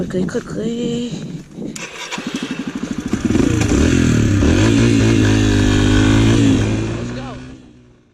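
A stock Yamaha TTR 125 LE dirt bike engine sputters to life after a few tries, then revs and runs with a loud buzzing drone before fading out. A voice speaks near the start.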